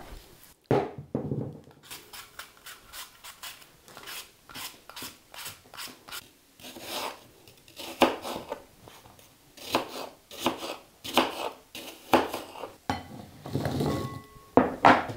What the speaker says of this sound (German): Die werden geschält und klein geschnitten.